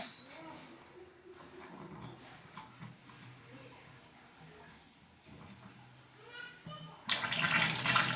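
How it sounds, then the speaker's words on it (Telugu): A newly fitted water tap is opened, and after a quiet stretch with faint background voices and a dog, a loud, sudden gush of running water bursts in close by for the final second. "ఇప్పుడు ట్యాప్ని ఆన్ చేద్దాం."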